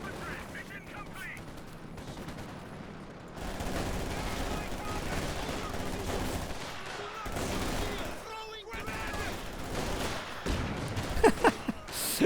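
Battle gunfire in Company of Heroes 2: rattling volleys and machine-gun bursts that swell after a quieter opening, with a few sharper cracks near the end, heard beneath ongoing commentary.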